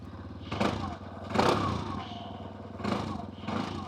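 A Kymco KRV200 motorcycle with a dual exhaust idles with a deep, steady rumble, broken by several short throttle blips that swell and fade close by.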